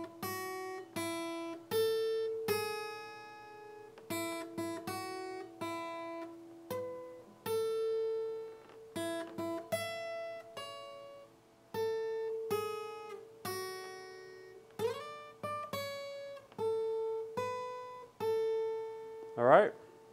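Guitar picks out the Happy Birthday melody note by note from tab, clear single plucked notes in a steady phrased rhythm, close and alone with no talking over it.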